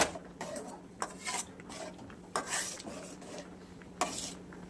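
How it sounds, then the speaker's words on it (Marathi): A spoon stirs milk powder, sugar, khoa and milk in a pan on a gas stove, giving quiet scraping and clinking strokes in an irregular rhythm. The stirring is close but faint, with no voices. "आता आपण ह्याला गॅसवर ठेवून हलवून घेऊयात मस्त."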